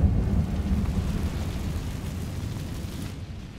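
The Incendio fire spell cast in Hogwarts Legacy, a deep rumbling whoosh of flame that swells loudly at the start and slowly fades, with no voices.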